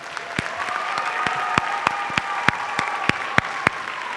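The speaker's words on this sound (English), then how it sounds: "One more round of applause for them." At a school band concert, the audience gives a sparse round of applause, individual claps distinct and spaced amid a soft crowd hum, fairly near and moderate in level.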